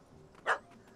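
A single short dog bark in The Witcher 3, a puppy chasing a cat up a tree, rises sharply from a quiet background and fades within a fraction of a second.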